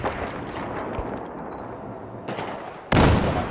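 Rapid gunfire in the shooter game Battlefield 4 with rounds striking a pillar, dense crackling bursts and impacts over a steady rumble, ending in a sudden loud blast that sustains to the close.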